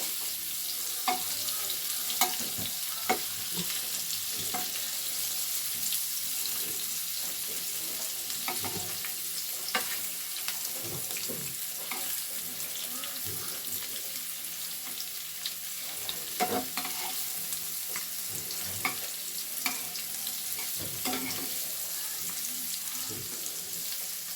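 Cubes of paneer fry in a pan with a continuous moderate sizzle as they are turned over, broken by scattered utensil taps and scrapes throughout.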